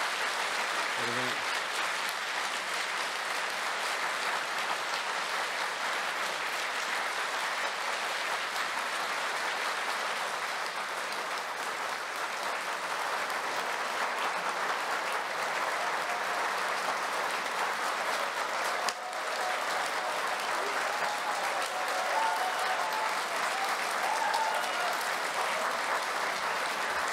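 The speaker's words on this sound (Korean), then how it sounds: "윤석열 대통령께서 나오실 때 큰 박수로 환영해 주시겠습니다" A church congregation at a 2023 Korean Easter union service at Youngnak Church claps to welcome President Yoon Suk-yeol, long, steady applause from a large crowd that holds at an even level for nearly half a minute, with voices faint underneath.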